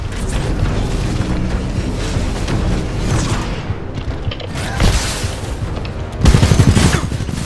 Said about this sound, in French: Coup de feu.